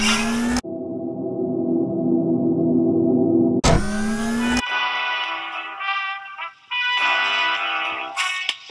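The engine of a cartoon kitty car in need of a tune-up drones and buzzes with a steady, distorted mechanical tone, then breaks into choppy sputtering bursts interrupted by short gaps.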